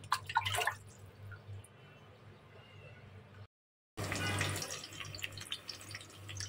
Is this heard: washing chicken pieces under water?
yes